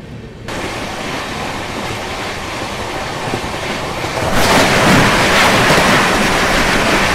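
Rajdhani Express running at speed past Mathura Junction, heard from inside the carriage as a loud, steady rumble of wheels on rails that grows louder and harsher partway through.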